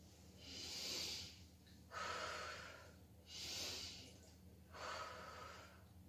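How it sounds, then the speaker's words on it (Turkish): Slow, quiet breathing exercise in a kindergarten class: four soft breaths alternating between a hissing inhale through the nose and a breathy exhale through the mouth, evenly paced. "Önce burnumuzdan nefes alıp ağzımızdan verelim."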